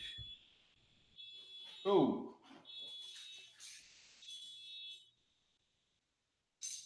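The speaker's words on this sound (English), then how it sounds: "That's my car. My alarm went off because I hit it in my pocket." A high electronic car alarm tone sounds in repeated bursts, moderately faint, with a voice briefly exclaiming partway through.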